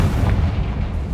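A Confringo fire spell explodes in the Hogwarts Legacy video game, a loud, low, rumbling blast that fills the whole moment without any talking.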